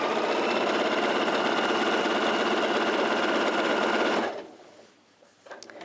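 A free-arm sewing machine top stitching close to an edge runs in one steady rapid whir for about four seconds, then stops abruptly, leaving faint handling noises.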